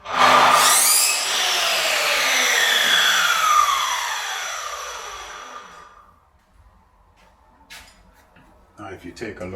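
A power tool cuts a piece off the edge of a part so it fits a gun, starting with a loud whine that slides down in pitch and fades over several seconds, followed by quiet handling clatter.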